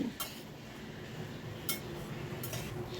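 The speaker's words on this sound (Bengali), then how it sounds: "আর এটাকে আমি বেশ নাড়াচাড়া করে মুগ ডালটা ভেজে নিচ্ছি।" A spatula scrapes and stirs dry mung dal in a wok over a medium-high gas flame with no oil or ghee, a soft, close, continuous rustle broken by three sharp metallic clinks.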